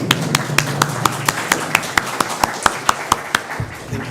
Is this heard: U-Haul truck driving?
no